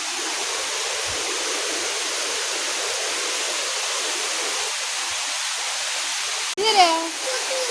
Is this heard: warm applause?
no